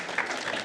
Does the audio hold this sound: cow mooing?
no